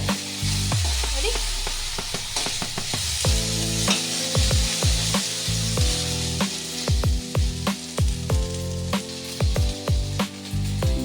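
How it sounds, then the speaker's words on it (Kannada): Okra frying in a pan at home, a steady loud sizzle with frequent stirring and scraping knocks throughout, close up. "ಈ ಕಡೆ ಬೆಂಡೆಕಾಯಿ ಫ್ರೈ ಆಗ್ತಾ ಇದೆ"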